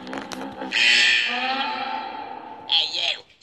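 A video game alarm rings out in a vault aboard an airship, sounding as a bright, sustained electronic tone with a rising wail near the end, after a few clanking hits at the start.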